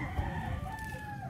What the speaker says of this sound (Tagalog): So ito yung rooster na gagamitin natin.